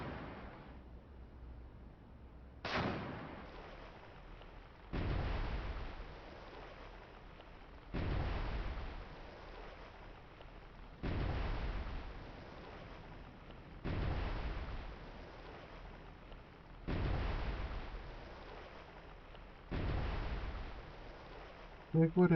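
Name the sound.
naval 5-inch guns firing, from video game Cold Waters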